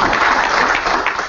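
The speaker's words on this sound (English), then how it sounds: "Please show him your appreciation with a warm round of applause" An audience briefly claps to welcome a speaker at a technology showcase, a short, dense burst of applause that starts to fade at the end.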